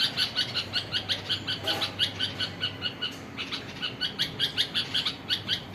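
A small bird chirps from a tree in quick, evenly repeated high tweets, close and clear over a faint outdoor hush, pausing briefly before resuming.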